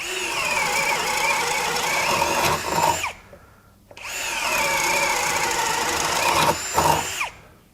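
A compact Ryobi 18V One+ drill driver bores a self-feed bit into a 2x4 in two loud, sustained whining runs close up, each ending abruptly, with a short quiet pause between them.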